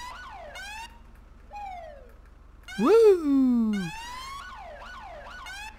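Police car siren from the LSPDFR police mod for GTA 5, fitted to a BMW X5, cycling through loud rising and falling wails and quick yelps, with a short excited voice exclamation over it.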